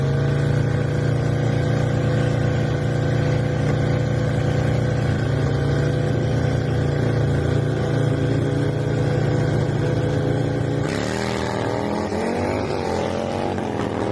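Motorcycle engine at full throttle racing alongside a bagger motorcycle, a dense, loud, sustained roar that shifts pitch sharply near the end as the bikes pull away.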